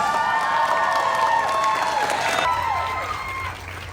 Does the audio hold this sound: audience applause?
yes